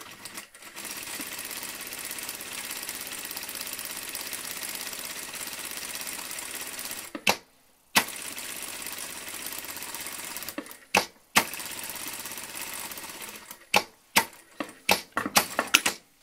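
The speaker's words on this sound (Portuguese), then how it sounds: "Vou cozer aqui deste lado, faço uma costura aqui ao alto e depois outra costura aqui" A sewing machine stitches the seam of a fabric bread bag, a steady close whirring run that breaks off, then several short bursts of stitching with pauses between.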